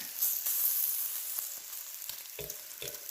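Bacon strips fry in a pan with a constant bright hiss and crackle, broken by a few soft knocks and scrapes of a utensil, close and with no talking.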